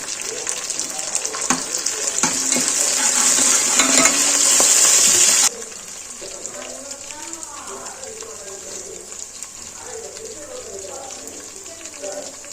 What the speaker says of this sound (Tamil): அந்த மசாலா போட்டு நீங்கள் நல்லா வதக்கிக்கலாம்